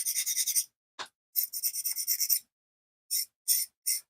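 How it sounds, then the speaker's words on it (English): A craft knife blade is resharpened on a sharpener while building miniature terrain: short, bright rasping strokes come in quick bursts, close and dry, with pauses between runs and no talking. "So I keep having to resharpen the same part over and over."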